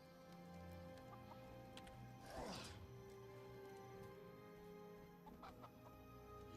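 Chickens cluck in Guild Wars 2, repeated short clucks over a steady game ambience with a brief swell of noise partway through, quiet and without talk.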